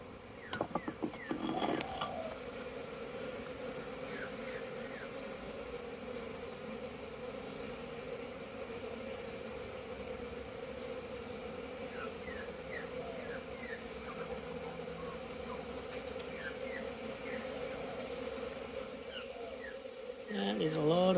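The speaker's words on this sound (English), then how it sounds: "That is a lot of bees." A steady, dense drone of many bees buzzing on orientation flights continues throughout, with a few faint clicks and rustles near the start and end.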